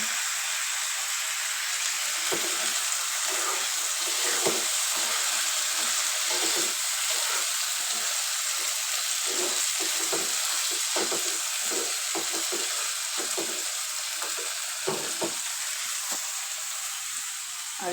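Vegetables frying in a pan give a loud, steady sizzle that fills the whole stretch, broken by repeated soft stirring knocks and scrapes, with no voices.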